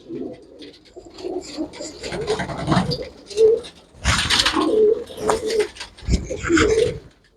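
Several pigeons coo close by in repeated low throaty bursts, with a few louder calls standing out and a faint voice in the background.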